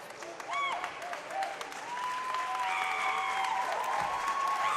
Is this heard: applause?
yes